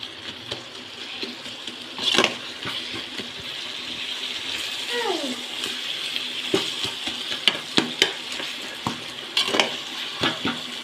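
Onions being sautéed in oil in a pan for Chettinad kuska, giving a steady soft sizzle with occasional stirring scrapes and clinks, moderately close and without any speech.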